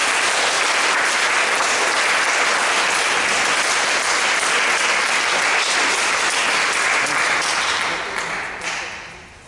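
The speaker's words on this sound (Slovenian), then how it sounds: "Dajmo temu čudovitemu Bogu in glasen aplavz" Loud, dense applause from an audience at a Slovenian speech event, sustained evenly for several seconds before thinning out near the end.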